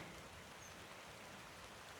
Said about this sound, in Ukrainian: Опять почався дощ.